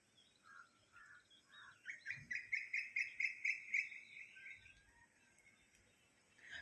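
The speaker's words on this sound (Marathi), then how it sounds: "सकाळ सकाळचे कोवळे सूर्यकिरण आणि पक्ष्यांचा किलबिलाट अजून काय पाहिजे सकाळ सकाळी" Birds chirp in the morning outside a kitchen, one giving a quick run of about eight rhythmic high notes in the middle, with softer calls before and after against a faint, quiet background and no talking.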